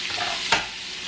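Chopped onion sautéing in a pan for a seafood boil sauce, a brief hiss of sizzling with one louder burst midway, close and without speech.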